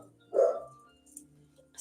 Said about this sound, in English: the puppies are barking